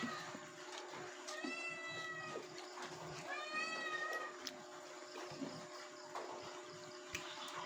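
A cat meows twice, drawn-out cries a couple of seconds apart, heard fairly faintly over a steady background hum.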